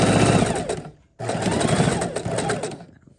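A sewing machine stitches quilt blocks in two fast, loud bursts separated by a brief pause, the needle's rapid mechanical chatter heard close up with no talking.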